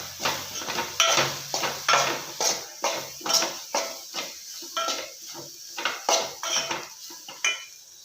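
Rava batter with coriander mixed in a bowl, a steady run of rhythmic spoon clinks and scrapes against the bowl, close and fairly clear, about two strokes per second.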